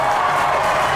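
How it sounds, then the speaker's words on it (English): Studio audience applauding and cheering to welcome a guest on a podcast show, a thick, continuous roar of clapping and crowd noise held at full level throughout. "Let's give her a round of applause"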